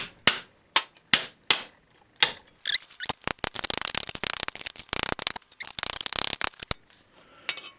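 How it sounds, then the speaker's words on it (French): A hammer knocks metal out of a vise, first as a few separate sharp metallic strikes spaced out, then as a fast, loud run of close blows before a couple of final taps. "Et avec mon marteau, je vais tout simplement venir faire sortir tout ça."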